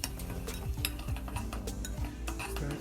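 Spoon stirring garlic sauce just after hot oil is poured over the garlic, soft scraping and light clinks against a bowl in a steady rhythm, close and quiet with no talk.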